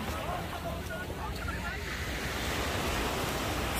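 Surf washing onto a beach shore forms a loud, steady, broadband rush mixed with wind buffeting the microphone, continuous throughout, while a voice speaks over it.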